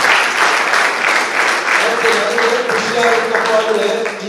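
Loud, sustained audience applause at a Pandit Puttaraj Gavai memorial award ceremony and music program, dense clapping filling the hall with a faint voice beginning underneath toward the end.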